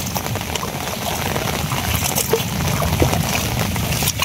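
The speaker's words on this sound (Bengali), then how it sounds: "ধুমসে বৃষ্টি শুরু হয়েছে, ধুমসে বৃষ্টি।" Heavy rain pouring down during a storm, a dense, loud, steady hiss with occasional heavier splashes and drops nearby, continuous across the whole stretch.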